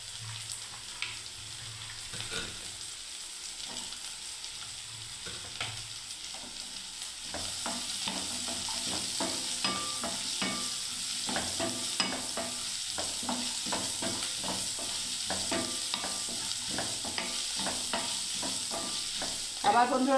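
Chopped carrots and beans fry in a pan for semolina upma, a steady sizzle broken by frequent scraping strokes of a spatula that grow busier and louder after the first several seconds.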